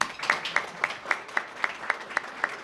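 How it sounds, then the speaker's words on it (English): An audience at a chamber of commerce economic development luncheon claps in a soft, even rhythm, about ten regular claps over a light background of scattered hands, fairly quiet and roomy. "let's have a round of applause for them"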